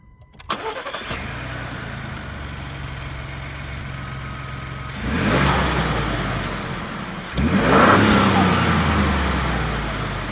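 A Ford Bronco's 2.7-litre twin-turbo EcoBoost V6 starts up, settles into a low idle, then revs twice with rising roars before easing back, heard up close.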